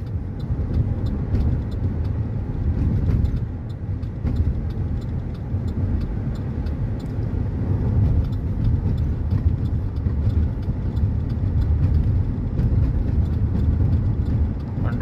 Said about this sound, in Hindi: इसमें कोई नहीं है, खुद गाड़ी चल रही है 100 माइल की